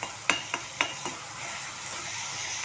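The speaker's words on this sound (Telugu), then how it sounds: "పచ్చివాసన పోయేంత వరకు వేయించుకుంటున్నాను" Ginger garlic paste with turmeric frying in a pan for chicken fry: a soft continuous sizzle broken by four or five light stirring scrapes early on, then settling into quiet frying.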